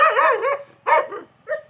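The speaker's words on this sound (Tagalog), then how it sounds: "Ay, yung aso ni Dinil." A dog barks three times in quick succession, close and loud, with short pauses between the sharp yelping barks and no other sound around them.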